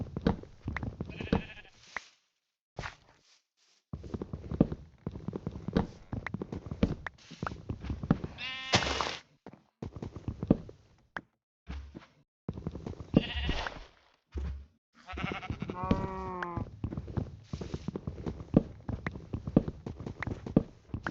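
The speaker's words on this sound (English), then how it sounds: "Hello, sheep." Sheep bleating in a blocky building video game, several distinct bleats at moderate distance between intermittent footstep-like clopping and gaps of near silence.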